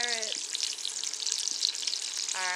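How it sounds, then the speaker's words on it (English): Carrots saute in about two tablespoons of hot oil in a pan, giving a continuous bright sizzle and crackle, with brief short tones at the start and end. "We're going to saute our carrots"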